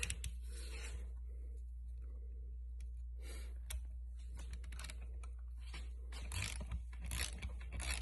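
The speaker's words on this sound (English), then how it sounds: "See if this brand new digital torque wrench cooperates." Bolts on a straight-cut W4A33 planetary gear assembly are tightened with a new digital torque wrench, giving quiet, scattered ratcheting clicks and metallic ticks over a low steady hum, with no speech.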